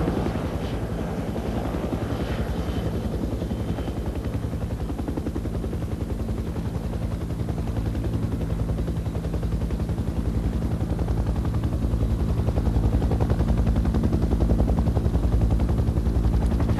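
Military helicopter gunships circle overhead with a continuous, heavy rotor thump and engine drone, and sporadic bursts of gunfire crack through the noise.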